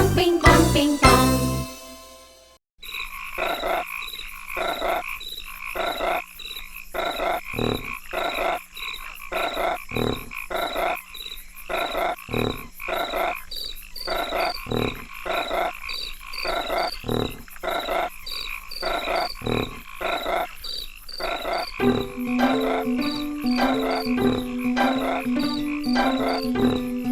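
Cartoon frogs croak in a Hindi nursery rhyme, a steady rhythmic ribbit pattern set against insect-like chirps and jingling music, looping nearly continuously and fairly loud, with a brief shift in the tune near the end.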